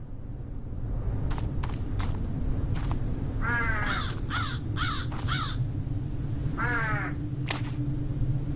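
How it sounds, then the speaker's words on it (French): A noisy crow caws in a short series of harsh calls over a steady low outdoor rumble, with a few sharp clicks or taps nearby. "C'est le corbeau bruyant qui arrive le premier."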